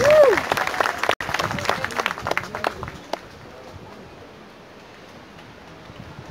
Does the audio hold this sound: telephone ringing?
no